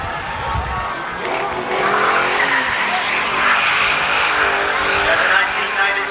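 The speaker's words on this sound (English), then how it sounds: "So Ron Ford barely makes it over the start-finish line." Race cars at Seekonk Speedway, a weekly short-track oval, roar past the start-finish line in a steady, loud wash of engine noise with some tire scrub, while a voice talks faintly underneath.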